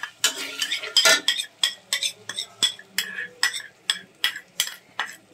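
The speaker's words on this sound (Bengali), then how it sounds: "এখন আমরা এই সসটাকে চিকেনে দিয়ে দিব। ঢেলে দাও লাবিবা, ওখানে নেড়ে দিলেই হবে।" Chicken in a pan being stirred with sauce, heard as a quick run of rhythmic metal spoon scrapes and clinks against the pan, close and crisp, with little sizzle.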